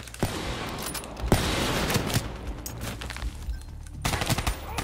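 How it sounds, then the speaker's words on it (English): Rapid gunfire in the stealth action game Splinter Cell Blacklist, dense bursts of overlapping shots and sharp cracks coming from several directions, loud and close throughout. "they are shooting me from everywhere"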